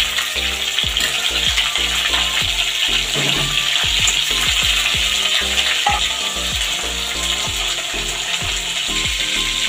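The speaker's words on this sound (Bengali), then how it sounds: "এবার ভাজা মাথাটা দিয়ে দেবো তেলের মধ্যে আবার।" A fried fish head sizzles in hot oil with dried red chillies, five-spice seeds and green chillies for a bottle gourd curry, a loud continuous crackle with regular scraping clicks of a utensil against the pan.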